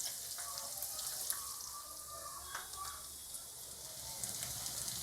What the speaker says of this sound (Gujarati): હવે આ લસણને આપણે લાલ થવા દઈશું ગેસની ફ્લેમ મીડિયમ રાખીને લાલ થવા દઈશું